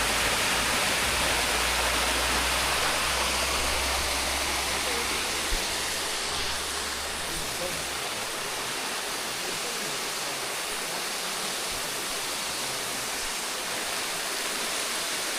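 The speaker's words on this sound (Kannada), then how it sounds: "ಸೊ ಇದುವೇ ಸುಂದರಮಯವಾದ ಒಂದು ಜಲಪಾತ" A roadside waterfall on the route from Jayapura to Horanadu roars continuously in the rainy season, with broad, even rushing water close by and a low rumble beneath it.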